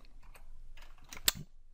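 A few scattered keystrokes on a computer keyboard, soft and close, ending with one sharper clack, while someone types code with no talking.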